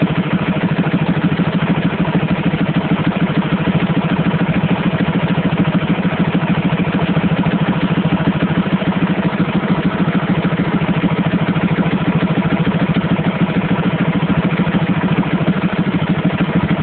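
A motorcycle engine with a Rextor CDI ignition idles around 1550 RPM, a continuous, loud, even rumble with a steady pulse and no break.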